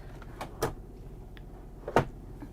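Two small drawers slide shut in a 2022 Newmar King Aire 4533 motorhome. Each gives a short, sharp knock, the first just past the half-second mark and the second about a second and a half later, over a quiet room hum.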